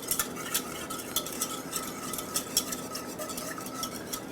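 A utensil scrapes and clinks steadily against a pot while a roux sauce is stirred, with soft, rhythmic strokes close by over a faint sizzle and no talking.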